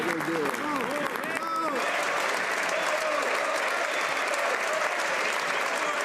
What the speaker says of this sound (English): You should applaud us for what we're doing.